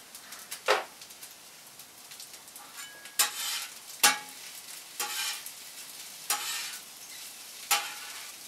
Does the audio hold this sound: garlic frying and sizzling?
yes